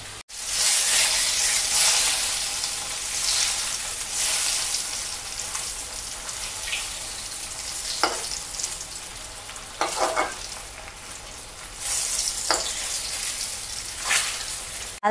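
Pangas fish frying in hot oil, with a steady loud sizzle and crackle running throughout and brief bursts of spattering and stirring scrapes at intervals, close and with no voices.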